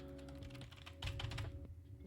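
Computer keyboard keys tapped in a quick, uneven burst of close clicks, a slightly heavier cluster landing midway, alone in a quiet room.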